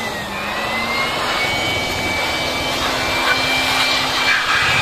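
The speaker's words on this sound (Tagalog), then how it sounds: "Ginagamitan natin ang blower." A steady, loud roar of a blower drying a Mitsubishi Pajero's under chassis, with a faint high whine, continuous throughout without pause.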